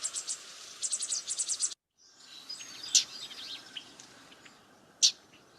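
Young birds call from wetland sedges: a quick run of high, thin chirps, then a brief silence followed by scattered sharp calls over faint background hiss.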